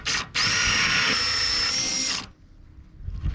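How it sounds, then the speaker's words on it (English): A hole saw drills through a wooden propane locker box during a wooden boat restoration, a loud, steady high whine lasting about two seconds after a brief start, then cutting off into near quiet. "I can drill that with the hole saw."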